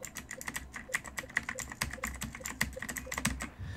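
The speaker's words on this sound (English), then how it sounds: "I got a new keyboard that has insanely loud keys" Rapid typing on a new keyboard with very loud keys, sharp clacking keystrokes in an uneven rhythm, close and clear with no voices.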